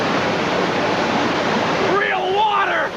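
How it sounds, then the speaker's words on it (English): Rushing flood water on the Universal Studios Hollywood Earthquake ride, a loud broad roar of pouring water, with a shouting voice over it in the last second. "A flood! A flood! Oh, this is terrible!"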